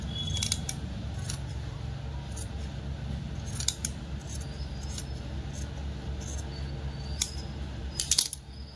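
Scissors snip through fabric being cut for a frock, giving a series of crisp, close cuts spaced irregularly over a low steady room hum, with a cluster of quick snips near the end.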